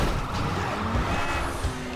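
A car engine drones and rumbles through a Grand Theft Auto 5 driving session, a steady, fairly loud motor noise heard throughout with no voices on top.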